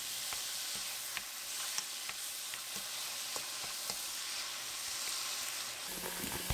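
Kimchi and chopped onion stir-frying in a spoonful of olive oil, a steady close sizzle with scattered pops and crackles throughout and no voices.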